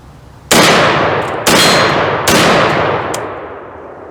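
Three loud gunshots from a CETME LC rifle, spaced roughly a second apart, each a sharp crack with a ringing tail, and small metallic clinks between them.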